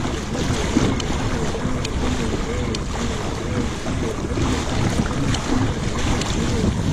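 A propeller-driven fishing kayak speeds across open water off Réunion Island: a steady, close rush of water and hull noise with constant wind buffeting the microphone, and no talking.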